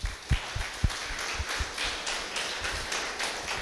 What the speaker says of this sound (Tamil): இப்பேற்பட்ட ஒரு கருத்துள்ள ஸ்பீச்சை நாம் மிக மிக கைத்தட்டி வரவேற்க வேண்டும்